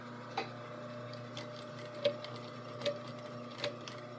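A sewing machine joins an upper collar to a lower collar, heard as a faint, even mechanical hum with a few soft ticks spaced through it. No one speaks.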